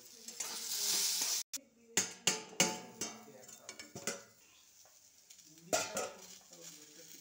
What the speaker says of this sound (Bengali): এবার আলু আর ছোলা এর সাথে দিয়ে আমি ভালো করে ভেজে নেব।